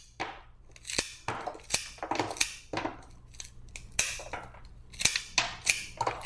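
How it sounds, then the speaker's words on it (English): Scissors snip flower stems to even lengths, a quick series of sharp, close metallic cuts in an irregular rhythm, some in quick pairs, with no talking. "I'm going to trim these stems so that they're nice and even"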